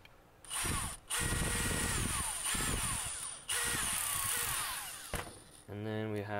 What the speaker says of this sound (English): if you're using a power tool, use a low torque setting.